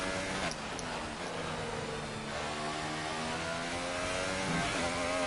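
Mercedes Formula 1 car engine in the F1 2018 racing game, revving hard with steady rising harmonic whine at a low-downforce circuit, loud and continuous throughout with no voices.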